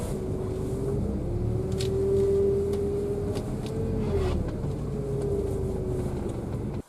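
Honda car driving at night, a steady engine and road drone with a rising and falling tonal whine, heard from inside the cabin with faint clicks over it.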